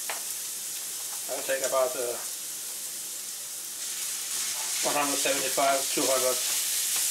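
Minced chicken sizzling and being stirred in a pan for omu raisu, a constant soft frying hiss with scraping stirs, while a person talks over it in short bursts.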